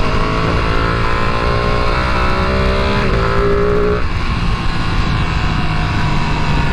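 A Ducati Panigale V2 sport motorcycle engine runs close by, its revs climbing and settling in a steady, throaty drone through a stock exhaust.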